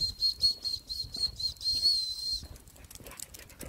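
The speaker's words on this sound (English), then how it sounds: "Felt like there was two whistles" A high, steady dog-training whistle tone sounds in short repeated bursts, then a longer sustained blast, fairly loud and close, with faint background rustle.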